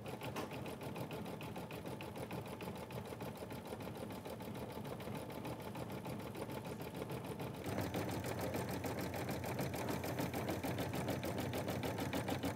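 An embroidery sewing machine stitches in a fast, even mechanical chatter that keeps going without a break, getting slightly louder partway through.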